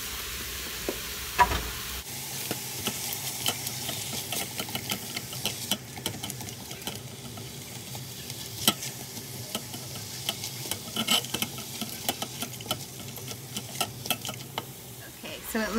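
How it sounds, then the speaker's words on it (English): Ground turkey browns in a Cosori pressure cooker, a continuous soft sizzle with frequent scraping and clicking stirs of a utensil, starting after a brief quieter moment, close and moderately loud throughout. "it looks like our ground turkey has browned up pretty good"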